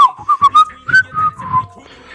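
A person whistles a short, bouncy run of clear notes, several quick chirps followed by a few longer sliding tones, close and alone.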